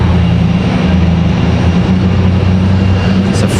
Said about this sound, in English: So Aeromexico is going to be an E190 LR.